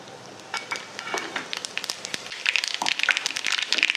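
Mustard seeds and cumin crackling and popping in hot oil in a wok, dense irregular spits and pops that grow busier and louder toward the end, close by.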